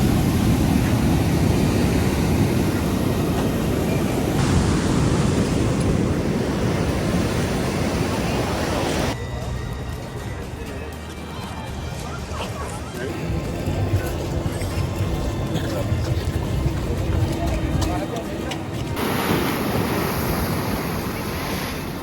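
Stormy sea waves crash on a Barcelona beach, a loud, continuous surf roar with gusty wind buffeting the microphone, the texture shifting as the camera moves, while people talk over it.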